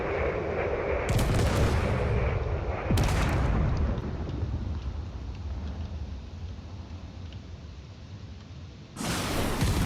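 Spaceships firing weapons in a space battle video game: heavy booming blasts, one near the start, one around three seconds and one at the end, each followed by a long rumbling decay.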